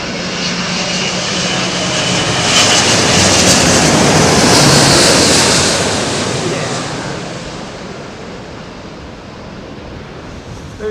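An airplane at London Heathrow Airport makes a loud, broad engine roar that swells to a peak midway and then fades as the aircraft passes. The roar is rushing and wind-like, and faint voices may sit underneath.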